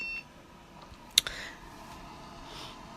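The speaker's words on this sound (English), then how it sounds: "it's fine if it beeps" A newly installed power supply gives a short, sharp electronic beep as it switches on, followed by a softer chirp and another faint blip near the end, over a low steady fan hiss.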